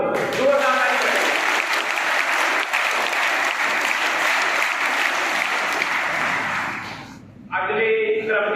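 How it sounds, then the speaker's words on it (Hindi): Students clapping at a school Teachers' Day event run by senior students: loud, sustained applause from a crowd fills the room, with a voice speaking over it at the start and again as the clapping fades near the end. "जोरदार ताली बजाइए।"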